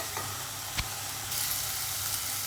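Masala sizzling and frying in hot oil in a pan for a catla fish curry, a steady faint hiss with a brief stir or clink partway through and a slightly louder sizzle toward the end.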